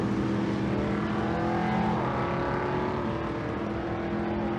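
A Pro Street Chevelle drag car runs at the drag strip with a dense, sustained engine roar. The tone shifts slightly partway through, with crowd and track noise blended in beneath it.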